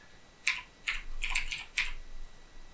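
Keys on a computer keyboard clack in a quick irregular run of five or six taps, close and fairly quiet over a faint hum, with no voices.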